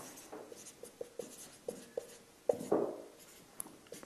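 Pen or marker writing by hand during a French math lesson on derivatives and relative extrema, a string of short faint taps and scratches with one louder stroke and a brief scribble, near and quiet, with no talk.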